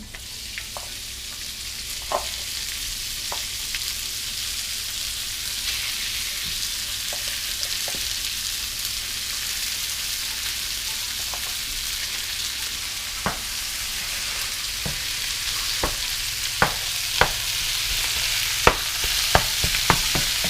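Onions fry in a pan with a continuous even sizzle and hiss, close and fairly loud, with occasional sharp pops and utensil taps growing more frequent toward the end.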